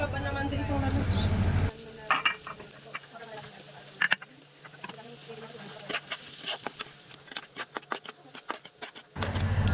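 Garlic frying in melted butter on a pan while cooking fish, loud bursts of sizzle at the start and end with scattered crackles and stirring scrapes in between, close by.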